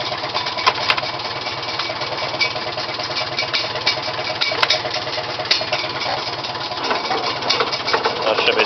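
A 1950 Farmall M tractor engine runs steadily in gear, a continuous loud, close mechanical drone with a rhythmic low chugging and faint knocking throughout, with no talk over it.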